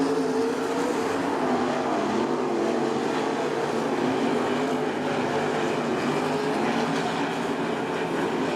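Race cars roar around the track in a heat race at Attica Raceway Park, running nose to tail, a continuous loud wash of engine noise that holds steady without a break.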